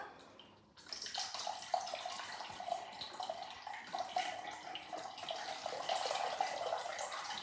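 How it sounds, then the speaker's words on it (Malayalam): A glass of water is poured into a jar holding chia seeds for a lemon drink. The steady, splashy stream starts after a short quiet moment and runs on, fairly soft and close. "ഇനി നമുക്ക് ഇതിലേക്ക് ഒരു ഗ്ലാസ് വെള്ളം ഒഴിച്ചു കൊടുക്കാം"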